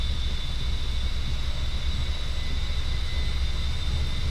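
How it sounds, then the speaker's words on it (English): A jet aircraft rolling for a crosswind takeoff in the DCS World flight simulator, a loud steady engine roar with a thin high whine held throughout, close and unbroken, with no talk. "I'm thinking that this is a crosswind takeoff here."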